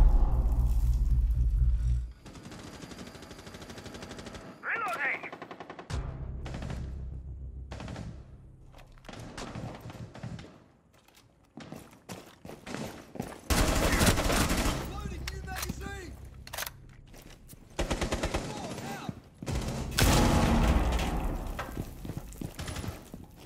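Bursts of gunfire from the Rainbow Six Siege video game come in rapid automatic strings and heavier booms, alternating with quieter gaps as the firefight continues.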